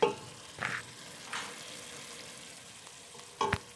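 Onions browning in a pan as they are stirred during preparation of wood pigeons with grapes: a low, quiet sizzle broken by a few brief scraping stirs of a utensil, no voices.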